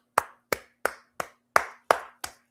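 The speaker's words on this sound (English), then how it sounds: "I got to clap for y'all." Seven sharp hand claps, close and loud, spaced at an even, steady rhythm with brief silent gaps between them.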